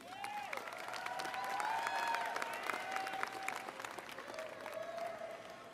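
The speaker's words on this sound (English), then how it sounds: "Graduates, turn around and give your parents a round of applause" High school graduates at a 2018 graduation give sustained, steady applause from a large crowd, moderately distant. Voices talk in the room, and a drawn-out whistling tone runs through it.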